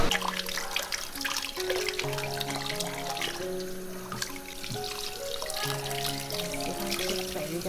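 Blanched pig trotters are rinsed under a running kitchen tap, a steady close stream of water splashing and trickling in a sink, with clinks and shifting sounds as the pieces move about.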